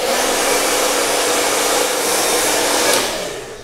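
A handheld hair dryer blows loudly and continuously while hair is blow-dried into a salon-style blowout, a steady close rushing roar with a slight dip in pitch near the end.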